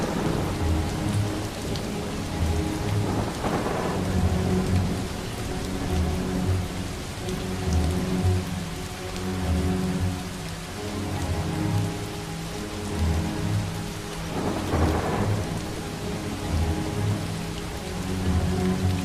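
Heavy rain pours steadily through a thunderstorm in the video game Far From Noise, with two deep rolling thunder rumbles, one near the start and one later, swelling over the constant downpour.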